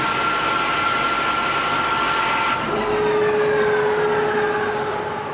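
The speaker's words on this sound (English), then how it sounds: "Once the wheel shape's been copied, a tool is loaded in place of the digitizing probe, and the resurfacing begins." At a PRI trade show, a CENTROID 5-axis CNC machine resurfaces an automotive wheel, giving a loud, steady mechanical whine and hiss whose pitch drops and settles partway through, with no speech.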